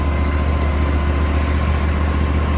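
A John Deere 2025r compact tractor idles steadily and loudly throughout on a cold day, a constant low engine drone with no voices.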